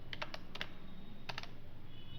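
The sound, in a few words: typing HTML code on a computer keyboard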